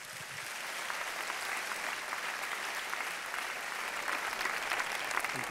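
A conference audience at an official event opening applauds for five children, a dense sustained wash of clapping with no break.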